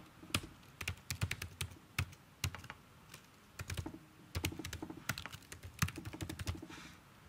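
Quick, uneven clatter of computer keyboard keys as a name and email address are entered, steady bursts of close taps with short pauses, no voices.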